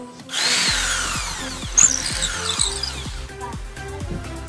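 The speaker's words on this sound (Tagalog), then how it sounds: "Pwede nyo butasan muna bago nyo ibaon yung screw." An electric drill boring a screw hole into a wooden shelf, its motor whirring steadily up close with a rising and falling pitch and a brief sharp bite partway through, heard alone without talk.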